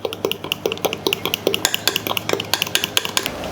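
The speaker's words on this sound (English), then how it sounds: "So we're just going to whisk these together." A whisk beats a cornstarch mixture in a bowl for a trifle dessert. It makes a quick, steady run of bright metallic clinks and scrapes, several per second, close by with no voices.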